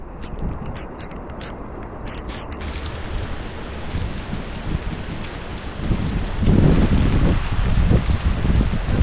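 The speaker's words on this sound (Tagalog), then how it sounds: "Napakalakas ang ulan" Heavy rain pours steadily outdoors with some wind buffeting, a dense hiss that swells louder in the final few seconds. No voices are heard.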